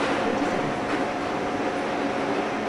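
A London underground train in the Train Sim World game rolls with a continuous low rumble and rail noise as it picks up speed, steady and moderately loud with no talk over it.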